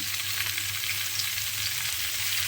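Cauliflower and potatoes fry with salt and are stirred in a pan, producing a constant close sizzle with occasional soft spatula movements and no speech.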